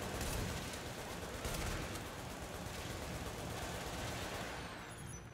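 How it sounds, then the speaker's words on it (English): An automatic gun turret in The Division video game fires a steady stream of rapid shots, dense and continuous at moderate loudness, tapering slightly toward the end. "He set up an auto gun."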